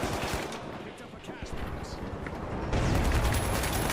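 Dense, rapid crackling pops of firecrackers going off nearby, loud and continuous, with voices shouting underneath.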